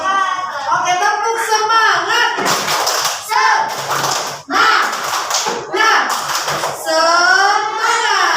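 A class of schoolchildren doing a rhythmic clapping cheer, bursts of many hands clapping in sync alternating with chanted children's voices, loud and close.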